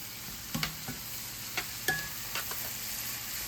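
Chicken cooks in a pan for a low-carb Tuscan chicken, with a soft, steady background sizzle broken by a few scattered clicks and taps of stirring, fairly quiet and close, no voices.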